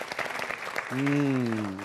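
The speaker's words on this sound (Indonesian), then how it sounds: "Tepuk tangan untuk Wisband." A brief burst of studio audience applause at a televised stand-up comedy battle, lasting under a second before a sustained, pitched tone cuts in over it.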